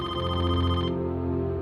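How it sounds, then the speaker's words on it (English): A telephone rings loudly and close in a home, a sustained electronic bell tone that cuts off abruptly partway through, with the ringing sound standing alone. "the phone started to ring"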